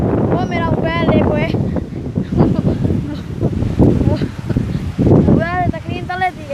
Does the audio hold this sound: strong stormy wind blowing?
yes